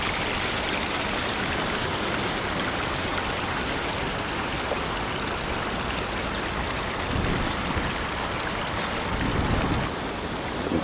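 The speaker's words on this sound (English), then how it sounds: "You can hear the little movement of the water." Water in a quiet garden pond with goldfish and a nearby waterfall, a soft, continuous broadband trickle and wash that stays steady and even throughout, with no talking.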